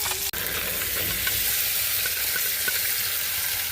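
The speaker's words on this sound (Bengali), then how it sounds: "এখন হচ্ছে আলু ভাজবো" Potatoes fry in hot oil in a home kitchen, giving a loud, dense, steady sizzle that runs unbroken after one brief click at the start, with no voices.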